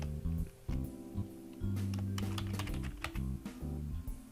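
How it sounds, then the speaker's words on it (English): Computer keyboard typing in a game-development tutorial, a run of clustered key clicks at moderate level over a low hum, with pauses between short bursts. "we're going to type in the word button"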